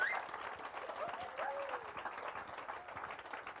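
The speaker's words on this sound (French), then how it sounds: "J'aimerais qu'on puisse les applaudir" A crowd applauds a youth group, a steady patter of clapping heard faintly and at a distance, with a few murmured sounds mixed in.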